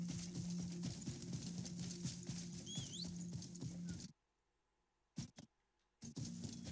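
Galloping horse hooves in a video game, a quick patter of hoofbeats under ambient game noise that cuts out briefly before resuming.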